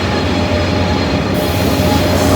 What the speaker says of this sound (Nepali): यो ट्रेनको चाहिँ नगुडेसम्म फेदो कि टुप्पो छुट्याउनै गाह्रो कि